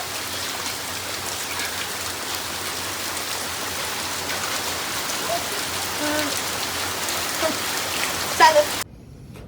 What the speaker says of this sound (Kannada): ಎಷ್ಟು ಮಳೆ ಬರ್ತಾ ಇದೆ ಗೊತ್ತಾ ಇಲ್ಲಿ